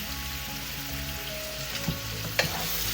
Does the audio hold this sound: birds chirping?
no